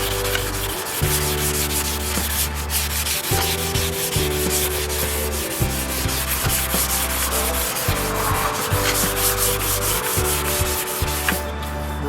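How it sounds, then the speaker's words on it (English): A shaper-type sanding pad rubs over a surfboard ding repair on the rail in long, steady strokes. The rasping hiss is loud and close and continues almost without a break, with no speech. "now we're just going to take a nice shaper type pad, sand down a little more of this"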